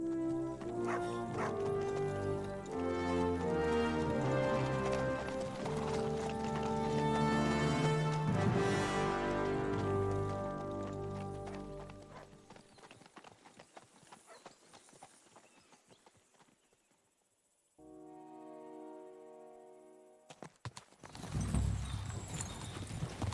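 Horse hooves clip-clop steadily while riding in the medieval video game Kingdom Come Deliverance 2, mixed under loud orchestral music that fades out before a short pause and a sudden burst of noise.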